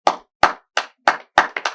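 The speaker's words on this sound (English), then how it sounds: "And then suddenly there's more claps." Hands clapping in a sharp, close series of about seven claps, evenly spaced at first and then quickening into a rapid cluster at the end.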